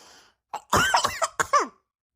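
Someone nearby coughs several times in a quick, harsh burst, followed by silence.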